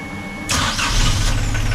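A sailboat's engine cranks and catches, a sudden loud burst into a rough, rumbling idle that settles into a steady running drone, close by.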